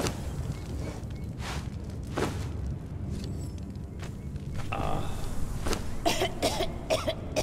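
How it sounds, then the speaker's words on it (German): A character in the Conan Exiles game coughs in a few short, sharp bursts spread across the stretch, set over a low ambient game rumble with soft footsteps and whooshes. "jetzt habe ich dich husten gehört"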